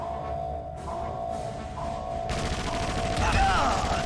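Gunfire in the Windows game Indiana Jones and the Emperor's Tomb: repeated shots and thuds, growing denser and louder toward the end, over a steady background tone and game noise.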